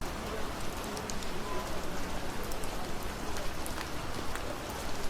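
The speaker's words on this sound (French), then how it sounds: "on va regarder un peu ce que ça donne avec l'ambiance pluie derrière." A rain ambience track from a film sound mix gives a continuous, even hiss of rainfall, with scattered drop patter on surfaces and no other sounds.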